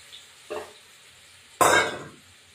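Spice paste with green chilli and chilli powder dropped into hot oil for a paneer and potato curry, a short hiss followed by a louder burst of sizzling that fades away, close and without talk.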